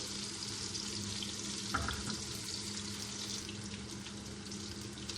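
Onions fry in a pan with a soft, steady sizzle and a low background hum, close and fairly quiet, with one brief clatter partway through.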